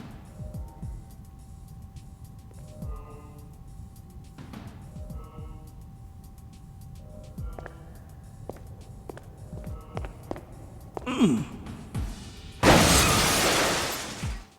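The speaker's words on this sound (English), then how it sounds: "the sound of crashing through glass in these cutscenes" Glass shattering in a Syphon Filter video game cutscene: a loud, bright crash bursts in near the end after a stretch of footsteps and low rumbling, then decays over a couple of seconds.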